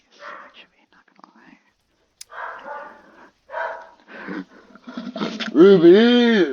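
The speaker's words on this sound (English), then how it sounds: "She barks whenever she likes." A pet corgi barks in a short burst of harmonic yelps near the end, loud and close, after stretches of a person talking and whispering nearby.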